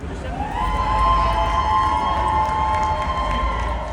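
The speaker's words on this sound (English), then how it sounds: "They are, however, cheering for those that got arrested" A crowd of protesters outside Trump Tower cheers and shouts continuously at a distance, with a sustained whistle-like tone running over the noise.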